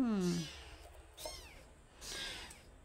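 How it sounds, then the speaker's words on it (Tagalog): A pet cat gives a couple of short meows near a bowl of halo-halo, faint and close, with soft background noise between calls. "Pati yung alaga kong pusa gusto niyang kumain guys."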